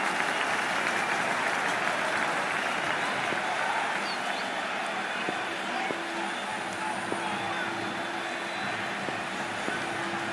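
Crowd noise at a cricket match in a video game, a steady dense roar of cheering and murmur filling the whole stretch, with a few faint tones and clicks over it.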